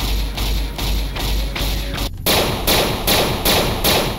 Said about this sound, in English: MNTL is gonna make energy weapons sound a lot more punchy.